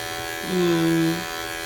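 Electric clippers trimming a dog's fur hum steadily, swelling briefly louder for about half a second as they press into the coat.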